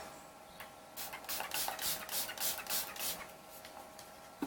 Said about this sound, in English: Do another layer of setting spray.